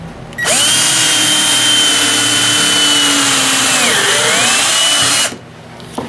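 A power drill runs continuously for about five seconds while boring a hole during a radiator install on a 1944 Ford 2N tractor, a loud close whine that drops briefly in pitch under load before stopping.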